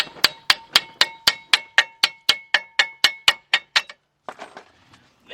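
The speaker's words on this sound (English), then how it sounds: "take the ball peen part of the hammer" Ball peen hammer striking the rusty front axle of a 2011 Jeep Patriot 2.0, about fifteen sharp metallic clangs in a steady rapid rhythm, loud and close, then a pause and a few lighter knocks.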